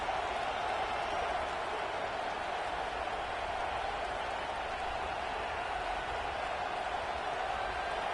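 A home crowd roars in the College Football 26 video game during an Illinois at Michigan matchup, a steady, dense wash of cheering that holds level from start to finish with no voices standing out.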